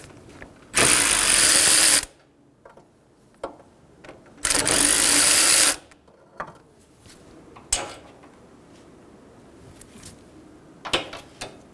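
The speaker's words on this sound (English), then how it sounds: "Using a 10 millimeter socket, remove the nuts for the AC lines." A power ratchet spins a 10 mm socket off the AC line nuts on a Hyundai Sonata in two loud whirring bursts, followed by scattered clinks and taps of tools and metal parts.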